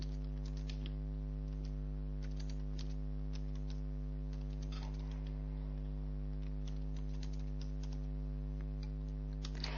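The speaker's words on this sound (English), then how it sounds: "To insert text, you just position your insertion point and type." Computer keyboard keys are tapped in faint, irregular clicks over a constant low electrical hum, with no voices.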